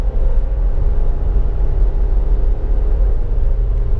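A Nissan Versa with a CVT gearbox accelerating on a highway, a steady low engine and road drone heard from inside the cabin, loud and continuous with no distinct shift break, no talking.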